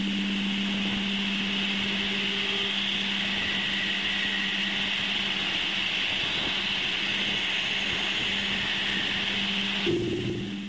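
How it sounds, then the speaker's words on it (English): A recording of the Uranian magnetosphere gives a steady, droning electronic hum with a high whistling band and a low buzzing tone, continuous and even, shifting briefly near the end, with no talk. "And this is the music of the Uranian magnetosphere"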